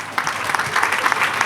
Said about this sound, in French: je demanderai à tout un chacun d'applaudir pour